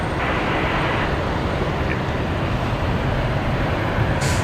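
Steady broadband roar of a KC30 military tanker aircraft at Brisbane Airport, a continuous jet rumble holding level throughout with no voices.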